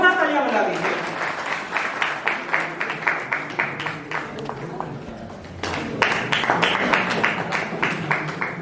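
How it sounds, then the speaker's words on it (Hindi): Rhythmic, loud applause from a poetry gathering audience at a national poets' meet, with a brief dip mid-way before the clapping swells again; speech-like sounds mingle in. "जोरदार तालियां बजा दीजिए"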